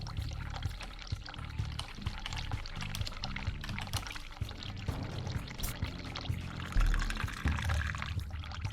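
Hot water pours steadily from a sink tap in The Cat Lady video game, a continuous watery rush with low rumbling game ambience beneath it and a louder surge near the end.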